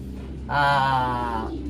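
A grizzle pigeon gives a single drawn-out coo lasting about a second, close and clear against a quiet indoor background.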